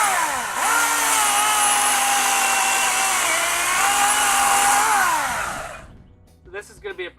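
A ONE+ 18-volt brushless 12-inch cordless chainsaw cuts through a branch about three inches thick, a loud steady whining buzz that dips in pitch as the chain bites into the wood, then cuts off before someone speaks.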